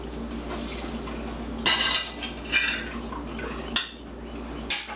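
Marinated pork chops are moved from a pan into a dish with clinks of utensils on cookware and soft wet sauce sounds, close and fairly quiet.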